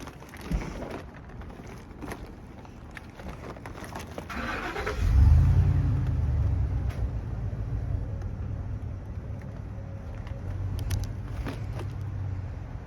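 A tow vehicle slowly dragging a Dodge Neon forward, its engine rising into a steady low rumble partway through and holding near and moderately loud, with scattered clicks and light background noise before it.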